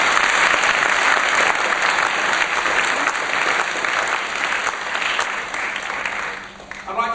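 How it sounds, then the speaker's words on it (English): At a keynote speech in London, an audience applauds. Dense, sustained clapping from many hands continues for several seconds and tapers slightly toward the end. "Give him a big round of applause."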